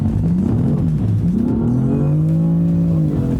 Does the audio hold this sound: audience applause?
no